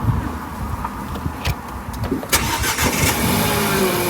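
A car engine cranks and catches, turning over with uneven bursts before settling into a steady, fairly loud idle close by.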